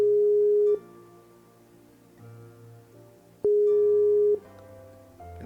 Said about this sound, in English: I don't like that ringtone.